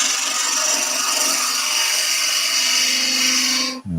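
A lathe turns a wooden cabriole leg as a tool cuts toward the foot, producing a loud continuous rasping, scraping drone that cuts off abruptly near the end, no talking.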